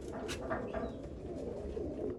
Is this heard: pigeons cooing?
yes